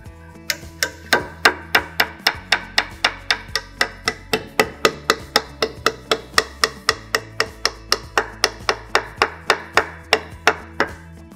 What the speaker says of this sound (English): the next step now is to hammer the anchor into your timber framework